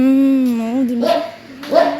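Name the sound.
dog barking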